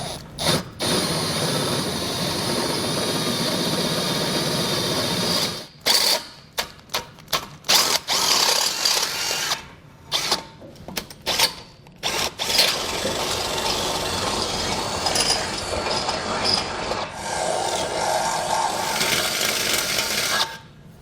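A power drill bores through the steel frame rail of a 2019 Jeep Wrangler, grinding loudly in long bursts broken by short stops and restarts, with no talking.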